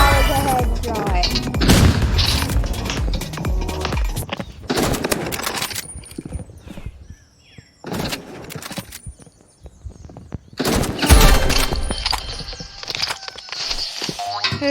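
Loud bursts of rapid gunfire from a shooter video game come in several dense clusters separated by quieter gaps.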